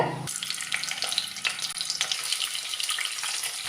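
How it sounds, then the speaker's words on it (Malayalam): Chicken pieces hit hot coconut oil for a Manjali chicken biryani, setting off a loud, steady crackling sizzle that starts abruptly and carries on evenly without any talk. "എണ്ണ ചൂടായിട്ട് വരുമ്പോൾ നമുക്കിതിലേക്ക് ചിക്കൻ ഇട്ട് കൊടുക്കാം."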